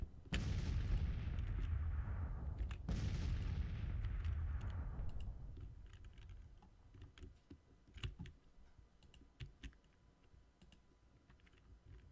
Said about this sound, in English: we have a artillery duel unfolding